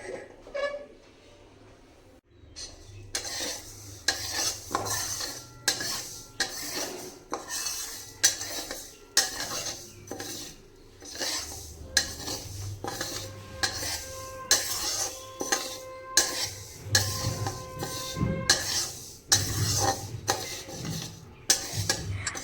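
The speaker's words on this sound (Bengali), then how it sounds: "গ্যাস অন করে মুগ ডালটাকে ভেজে নিতে হবে হালকা করে" Mung dal dry-roasting in a pan on a gas stove, stirred with a spoon: steady rhythmic scraping and clinking against the pan over a faint rustle of lentils, close and fairly loud, with no talk.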